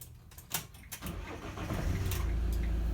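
A bus engine is switched off and restarted during a brief stop on the P1 route, from a few clicks and cranking into a steady, loud, low idle that builds and holds.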